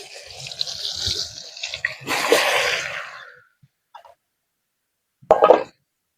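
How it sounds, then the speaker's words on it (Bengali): Raw jackfruit pieces go into hot oil, setting off a close hiss of frying that swells and fades over a second or so, with scattered soft plops before it and a brief clatter later. "এবার এই তেলেই আমি এঁচড় গুলো ভেজে নেব।"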